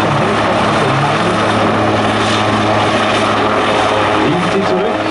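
A Swiss Air Force Eurocopter AS-532UL Cougar Super Puma helicopter roars during a flying display, its loud engine and rotor noise steady and close throughout.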